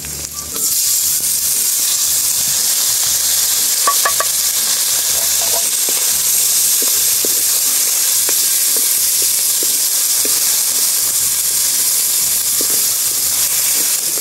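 Onion and mushroom cooking in a pan, giving a steady, close sizzle and hiss throughout, with occasional scraping and stirring clicks from the utensil.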